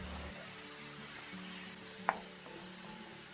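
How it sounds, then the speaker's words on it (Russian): Onion and garlic frying in a little oil in a hot pan give a faint, steady sizzle throughout, broken by one brief sharp crackle partway through. "В разогретую сковороду наливаем немного масла и отправляем туда лук с чесноком. Немного обжариваем"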